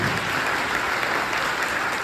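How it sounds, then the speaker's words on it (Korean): Wedding guests applaud just after the officiant pronounces the couple married in a wedding hall, a steady, dense wash of clapping that holds at an even level throughout with no voices on top. "여러분 큰 박수 부탁드립니다"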